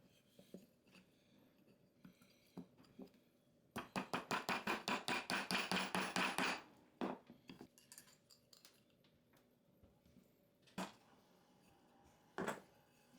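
A nail is tapped into a pallet hardwood shelf slat, heard as a quick run of about a dozen sharp, evenly spaced metallic hammer taps, with a few isolated knocks before and after in an otherwise quiet workshop.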